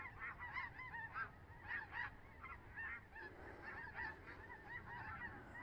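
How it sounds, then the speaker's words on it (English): A flock of geese honks overhead, many overlapping calls at a steady distance, with wind noise underneath. "Bunch of snow geese up there."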